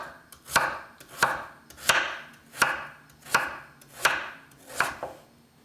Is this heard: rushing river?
no